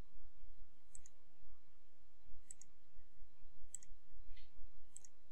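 Mouse clicking while panels are defined and deleted in S-FRAME structural software: four or five faint, sharp clicks spaced about a second apart over a quiet low hum, with no talking.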